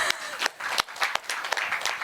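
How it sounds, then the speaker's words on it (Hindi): Scattered clapping from a small audience at a summit gathering, a few distinct close hand claps at an uneven rhythm over soft room murmur. "थैंक यू, तालियां बजाइए।"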